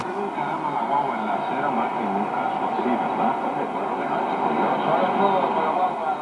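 A 1957 Grundig-Majestic 3028 tube radio tuned to a shortwave broadcast gives a steady, hissy stream of distant voices and noise at moderate level.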